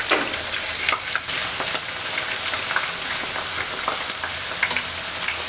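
Potato chips frying in hot oil in a pan, a dense, steady sizzle and crackle that holds at an even level throughout, with no voices.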